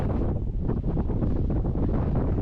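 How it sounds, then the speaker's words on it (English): Strong wind blows through trees near a hilltop hermitage chapel, a loud, continuous roar buffeting the microphone with no voices. "And you can see the strong wind, how it's moving the trees."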